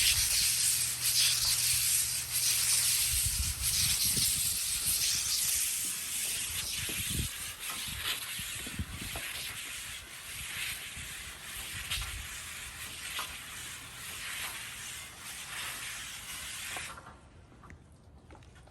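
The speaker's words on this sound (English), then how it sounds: "I'll start at the top and try my best to get all the salt down, and then I'll scrub up and down," Water-fed brush scrubbing salt off frameless deck glass rails outdoors, a steady broad wet hiss and swish with brushing strokes running continuously before cutting out near the end.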